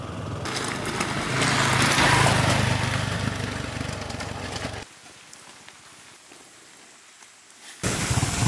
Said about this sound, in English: So it's raining, and then it's not raining